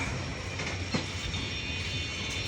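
Rupsha Express train pulling out of Domar railway station in Bangladesh, a steady broadband rumble of rolling rail cars with faint rhythmic clatter, one brief louder knock, continuous and moderately loud with no talking.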